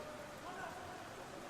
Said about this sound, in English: The rain's falling pretty heavily here again in West Yorkshire